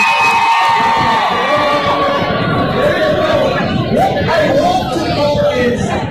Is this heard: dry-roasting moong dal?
no